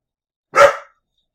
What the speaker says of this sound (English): Oh, that's Porter Puppy still helping out with my math lessons. Had to pause for a minute while he had a little tantrum